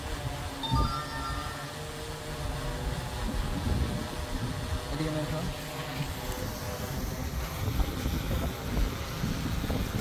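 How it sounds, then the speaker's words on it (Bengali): Strong wind roars across the microphone in steady gusts, high above the clouds with rain every so often, with boat-like rumble and faint voices underneath. "প্রচুর পরিমাণ বাতাস এবং হচ্ছে একটু পরপর বৃষ্টি হচ্ছে।"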